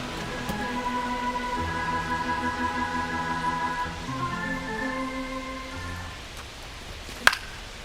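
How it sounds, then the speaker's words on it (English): Steady rain hisses down at a baseball game in MLB The Show 25, a constant wash under a sustained musical tone, ending with a single sharp knock near the close. "This rain is not letting up."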